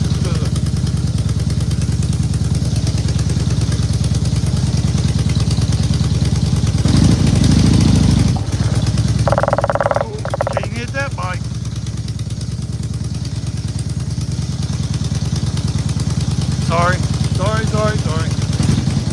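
A motorcycle on a brand new battery cranks and fires up, its steady low engine rumble running throughout with a brief louder burst partway, while people talk nearby over the running bike.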